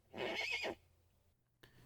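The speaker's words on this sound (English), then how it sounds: "This is my horse, Talon. He's a Zaracanian horse." A horse named Talon, a Zaracanian breed, gives one loud, close whinny lasting about half a second, followed by quiet with a faint soft knock at the end.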